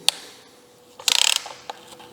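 A ratchet clicks in a short quick burst of about ten ticks while loosening a rusted bolt on a Mazda MX5 engine during cylinder head removal, with a couple of isolated metallic clicks before and after.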